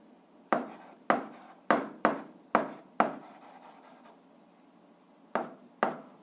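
Pen strokes on paper while working a school physics problem, a series of short sharp scratchy marks in quick bursts, close and fairly quiet, with a pause before two final strokes.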